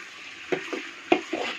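Onions frying in a pan until brown while being stirred, a steady close sizzle broken by a few scraping stir strokes, with no talk.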